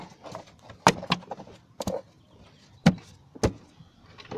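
A plastic engine cover on a Ford Territory diesel is pressed back into place, making several sharp clicks and thumps spread over a few seconds between quieter handling rustles.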